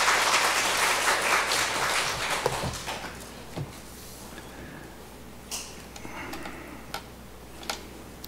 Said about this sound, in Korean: 우리 나오실 때 환영과 감사의 박수로 맞이하겠습니다